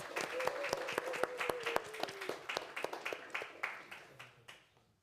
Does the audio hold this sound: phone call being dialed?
no